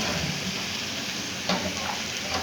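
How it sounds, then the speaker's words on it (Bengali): Vegetables for veg chowmein, including capsicum, sizzle steadily in a hot pan, a dense continuous frying hiss with a few soft stirring scrapes, close and alone. "দেখো চাউমিনটা তো ভাজা হয়ে গেছে, চাউমিনের সবজি ভাজা হয়ে গেছে"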